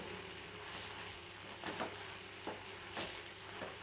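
Drumstick leaves being sautéed in a pan for ragi adai give a soft, steady sizzle under a hiss, broken by a few brief stirring scrapes.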